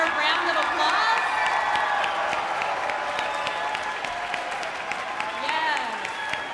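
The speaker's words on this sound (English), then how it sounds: "can we give these amazing students another well-deserved round of applause?" Audience applause and cheering for high school students at a music festival concert, a dense, sustained wash of clapping with whoops and crowd voices that holds steady for several seconds.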